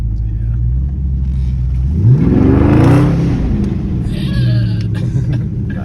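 A widebody Dodge Charger Scat Pack's engine revs up close, its pitch climbing sharply and then dropping back over a steady, heavy exhaust rumble.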